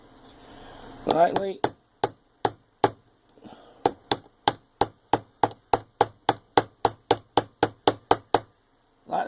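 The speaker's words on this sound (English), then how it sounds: "tap it down in there till it stops" A small cheap socket being tapped down into a pressure washer pump seal, a long run of evenly spaced sharp metallic hammer taps, close and clear, after a brief rustle of handling.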